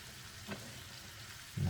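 Fresh home-picked mushrooms fry in a pan, giving a steady soft sizzle throughout with a brief louder burst near the end.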